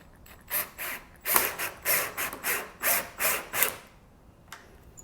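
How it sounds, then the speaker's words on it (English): Cordless drill on a low torque setting running 1 5/8 inch screws into a wooden acoustic panel frame, a series of about eight short whirring bursts in quick succession, close and fairly quiet, with no talking. "Now we'll just run our screws in there"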